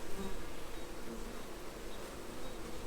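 Honey bees buzzing around the entrance of a small nuc hive while defending it from intruders, a steady, dense hum of many insects close by with no gaps and no voices.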